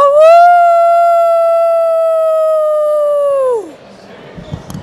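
A person imitates a she-wolf howl with one long, steady, loud voiced howl that holds its pitch, then slides downward and breaks off, followed by faint rustling.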